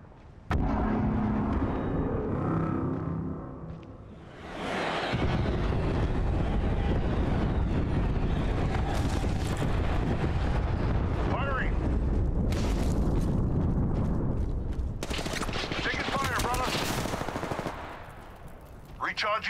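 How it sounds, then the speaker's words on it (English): Airstrike explosions called in during an Apex Legends match: a long run of loud rumbling blasts and rapid gunfire, with heavy booms rolling one after another and short breaks. Occasional game voice lines are mixed in. "Calling the airstrike."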